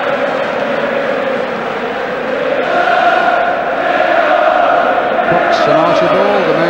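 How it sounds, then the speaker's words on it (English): A large football crowd roars and chants steadily at the 1981 FA Cup Final between Manchester City and Tottenham Hotspur. The dense, continuous stadium noise carries a rising sung chant. "And the crowd getting warmed up for what should be a really engrossing second half."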